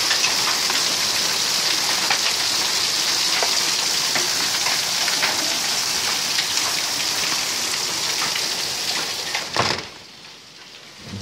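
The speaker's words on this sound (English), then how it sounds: "We got hail." Hail clatters hard and steady on surfaces outside a garage-like space, a dense, loud patter that drops off sharply near the end after a brief thump.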